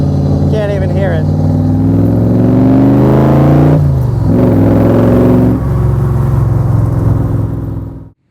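A powerful Superformance Cobra sports car engine roars and revs continuously at close range, its pitch rising and falling, with a brief dip midway before cutting off at the end.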